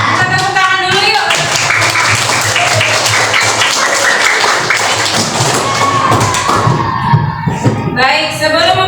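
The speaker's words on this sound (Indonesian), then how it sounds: "Kita tepuk tangan dulu yuk." Children in a classroom clap their hands together in a dense, loud burst of rapid claps lasting several seconds, with voices mixed in and a few sung or spoken tones around the clapping.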